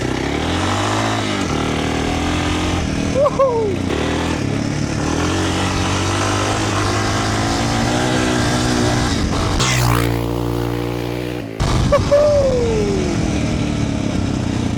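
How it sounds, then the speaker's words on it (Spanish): A Suzuki DR 600 motorcycle, restored after sitting abandoned for 18 years, revs loudly and steadily with a thumping, knocking beat as it accelerates, rising sharply near the end. "cuando acelero parece que golpea, parece que la moto está mal, pero es así"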